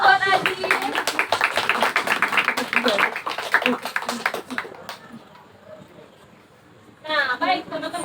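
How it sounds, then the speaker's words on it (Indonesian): A classroom group claps hands in quick irregular bursts for about five seconds, close by, with voices talking over it; the room then goes quiet before speech resumes. "Tepuk tangan dong buat Aziz."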